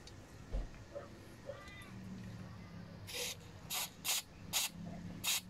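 Short sharp bursts of carburetor cleaner sprayed into a Ryobi RTL25GMCS trimmer carburetor, five quick hissing blasts in a row after a quieter stretch, close up and clear.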